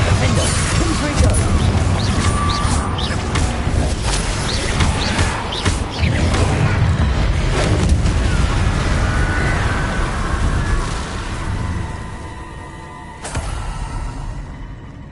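Loud, dense crashing blasts and shattering bursts from Confringo and other combat spells in Hogwarts Legacy, piling up continuously with rumbling debris, a voice calling out over the chaos.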